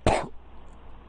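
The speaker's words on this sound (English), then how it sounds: "Excuse me, I just coughed." A single sharp human cough bursts out close and loud, lasting about a quarter second, then fades into a quiet room with faint background hum.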